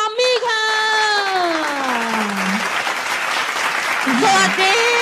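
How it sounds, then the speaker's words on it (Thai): A room of university freshmen applauds a guest host at Krirk University's first meeting, with loud continuous clapping mixed with cheering and drawn-out whooping voices near the start and end. "ขอเสียงปรบมือให้กับพี่ปลามี่ค่ะ"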